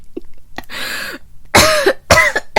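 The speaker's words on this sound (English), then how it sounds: "I'm so sorry about the coughing" Three harsh coughs up close, loud and raspy, the last two stronger and spaced about half a second apart, with no talking.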